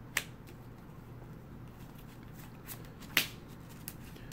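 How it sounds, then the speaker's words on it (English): A deck of trading cards is shuffled by hand during a card game tutorial, giving faint soft rustling with two sharp snaps of cards riffling together, quiet and without talk. "the deck is shuffled"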